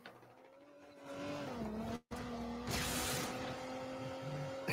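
Car engine in a video game, a steady tonal drone whose pitch dips then holds after a brief cut, with a burst of hissing noise midway, moderately loud and without talk.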